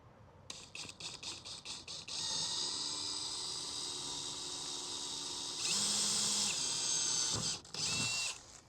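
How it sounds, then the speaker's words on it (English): A power drill pre-drills a screw hole while a Moryde Safe-T-Rail is fitted to an Impression 36BR3 RV, starting with several short bursts, then running in a long steady whine that rises in pitch near the end before stopping. "Go ahead and pre-drill this hole."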